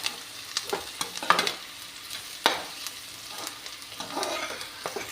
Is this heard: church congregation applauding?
no